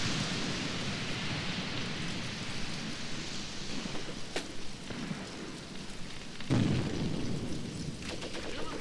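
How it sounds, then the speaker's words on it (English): Machine gun fire in Graviteam Tactics, a steady crackling rattle of distant bursts under a wash of battlefield noise, with a sharper thump near the end. "Machine gun fire."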